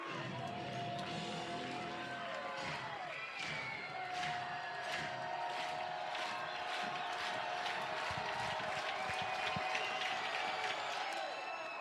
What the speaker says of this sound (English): the home crowd at the Rhodes House celebrates a series win over a top-ranked opponent